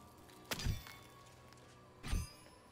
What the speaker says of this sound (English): We've absolutely got to hit that crumbly wall.